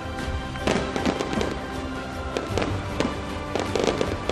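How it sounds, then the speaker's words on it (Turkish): A fireworks display at an outdoor festival in İznik, with loud, dense crackling and repeated booming bursts that overlap continuously, heard from close range. "Ve şimdi harika bir havai fişek gösterisi İznik'te."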